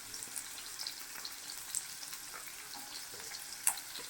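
Onions and then garlic frying in hot oil for a Telugu nune vankaya (oil brinjal) curry, a soft steady sizzle with occasional faint stirring clicks, quiet and close, no talking.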